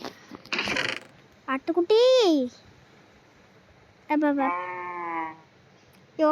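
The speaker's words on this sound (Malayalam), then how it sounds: "ആട്ടുകുട്ടി" Several high, wavering sheep bleats from Minecraft, separated by short clicky game sounds and pauses.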